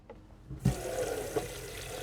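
Water pours steadily into a small half-gallon bucket for making sanitizing solution in a restaurant kitchen. A short quiet lead-in gives way to a sudden continuous rushing splash that lasts to the end, with no talking.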